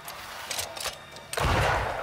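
Gunfire from a ranged enemy in the video game Banishers: Ghosts of New Eden: a couple of short, sharp shot bursts, followed by a louder, heavier blast that rumbles on to the end.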